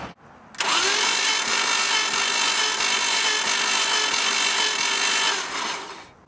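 A 1988 MJ 2.5-litre engine with a no-start fault cranks fast with all spark plugs removed for a compression test, giving one steady, close whirring spin lasting about five seconds before winding down.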